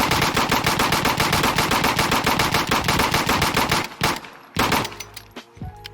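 A semi-auto security secondary weapon fires in a video game, letting off a rapid, evenly spaced burst of loud shots for about four seconds. A few scattered final shots follow after a brief gap.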